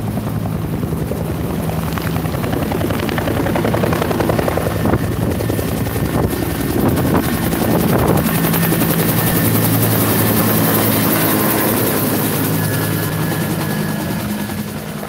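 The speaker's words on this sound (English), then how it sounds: "Ah, they got two Hueys here this year." A Huey military helicopter flies over a military vehicles show, its loud, continuous rotor chop and turbine roar dominating throughout with some wind buffeting on the microphone.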